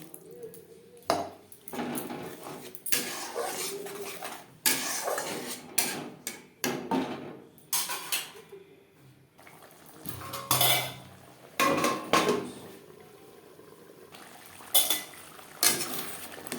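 At a low to medium flame, masala fries in a pan for a silver carp and capsicum curry, with bursts of a utensil scraping and clattering against the pan between quieter stretches of soft sizzling.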